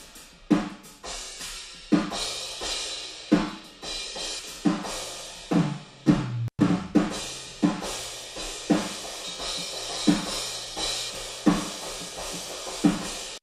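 Drum room track from a single room microphone, cymbals softened with Soothe processing to tame harsh reflections, playing a steady groove of regular kick and snare hits with washy cymbals, upfront and full, no talking.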